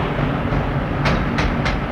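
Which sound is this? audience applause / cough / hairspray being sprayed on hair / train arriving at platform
train arriving at platform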